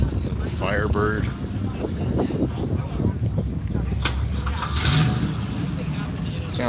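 A Pontiac Firebird Trans Am muscle car idles with a steady, rumbling engine at a car show. The engine may need carburetor work. The sound runs continuously under outdoor crowd noise, wind and passing talk.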